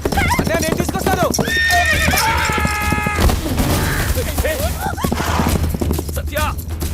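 A horse in a Telugu comedy film scene gallops with steady clip-clop hoofbeats and gives a long, loud, clear whinny partway through. Voices talk over the sound and background effects run alongside it.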